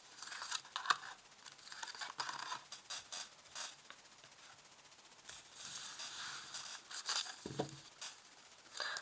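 Oracle cards being drawn and shuffled from a deck, soft papery rustles and crisp snaps close by, repeated irregularly through the stretch with no talking.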